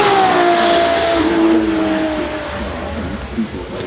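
A Ferrari 812 Competizione with its V12 at full throttle, a loud close engine howl whose pitch glides downward as it shifts and sweeps by, with people speaking over it.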